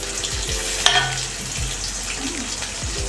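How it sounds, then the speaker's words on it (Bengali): Boiled vegetable stems going into hot oil for a Bengali data chorchori, a brisk sizzle and crackle with a sharp clatter near the start and some low bumps, no voices. "এখন আমি দেখেন সিদ্ধ ডাঁটা তেলে করে দিয়ে দেবো।"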